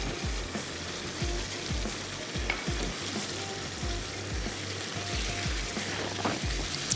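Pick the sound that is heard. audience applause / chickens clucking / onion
onion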